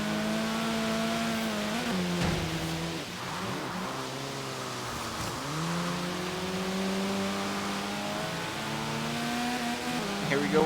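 Race car engine in a D-class race in the video game Forza Horizon 3, revving loudly and climbing in pitch through repeated gear shifts, with brief tire squeal as it corners and a continuous near drone.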